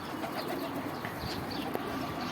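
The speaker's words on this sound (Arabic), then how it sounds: "الزغليل والحمام كله هينزل دلوقتي" Pigeons and squabs coo softly as they come down to feed, a faint, repeated low cooing over steady background noise, close by but quiet.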